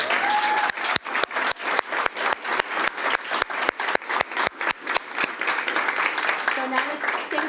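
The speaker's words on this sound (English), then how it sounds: "let's give another round of applause to our champions" Audience applause for champions at a board of education meeting, a dense burst of clapping from a crowd that carries on steadily, with a faint voice underneath.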